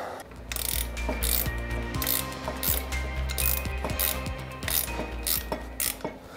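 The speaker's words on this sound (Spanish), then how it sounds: "Ahora nada más nos queda apretar el freno." A ratchet clicks in quick, steady strokes while tightening the brake nut on an off-road motorcycle wheel, the close, mechanical pawl chatter running continuously with brief pauses between pulls.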